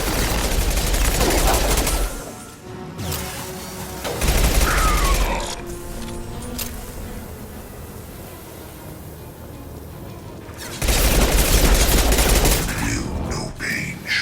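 Bursts of automatic gunfire from a Mass Effect 2 firefight come in loud, dense volleys of rapid shots, separated by quieter stretches with lighter combat noise.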